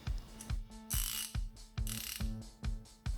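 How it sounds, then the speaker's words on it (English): A Stahlwille ratchet fitted with a Bahco 1/2-inch deep socket clicks through several back-and-forth strokes, giving a close, crisp metallic ratcheting rhythm with no voices. "It fits good onto the Stahlwille ratchet."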